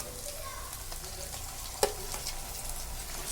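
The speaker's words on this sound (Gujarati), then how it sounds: "મરચાં અહીંયા થોડા ચડી ગયા છે, એટલે હવે હું આમાં મેં ટામેટા જે ઝીણા કરીને રાખ્યા હતા ચોપરમાં એ આમાં એડ કરી દઈશ" Chopped tomatoes going into sizzling chilies in a home kitchen pan for palak bataka sabji, a steady hiss of frying with soft stirring and a single sharp utensil clink, faint speech underneath.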